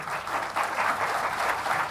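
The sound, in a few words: audience applause at a speech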